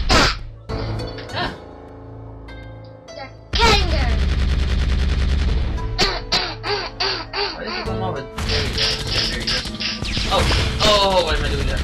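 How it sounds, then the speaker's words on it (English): Gunfire in the Zombie Panic in Wonderland video game: loud, sustained bursts of rapid shots and crashing impacts, layered with game music and excited talking. "Let's shoot that!"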